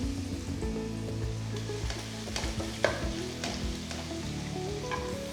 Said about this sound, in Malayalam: നന്നായിട്ട് ഗോൾഡൻ ബ്രൗൺ കളർ ആകുന്ന വരെ ഫ്രൈ ചെയ്തെടുക്കാം.